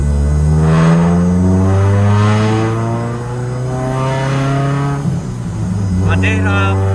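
A car engine fitted with a 20-inch MagnaFlow resonator hums steadily while driving, a low droning tone swelling slightly through the run, with someone talking over it.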